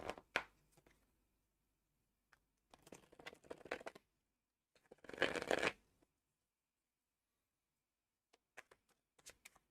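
Tarot cards being riffled and shuffled in several quick bursts, with a louder flurry in the middle and soft taps near the end, close and otherwise quiet.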